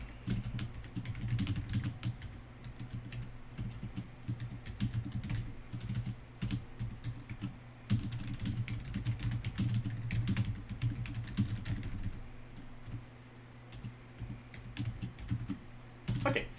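Steady computer keyboard typing as a line of code is entered, a continuous run of quick, close key clicks at even volume with a low hum beneath and no voices.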